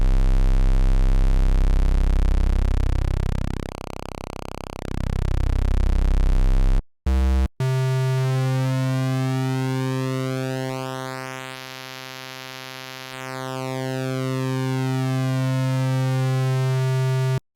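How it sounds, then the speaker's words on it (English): Pulse-width-modulated square wave from a Roland Juno-106 style synthesizer, a steady sustained tone whose harmonics sweep slowly as the pulse width changes, briefly cut off once before a second, deeper held note continues sweeping alone. "Let's take a listen to the pulse with modulation and see what that sounds like."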